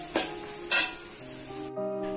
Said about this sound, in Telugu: సో ఆయిల్ వేసుకొని ఎగ్ వేసేసుకుందాం.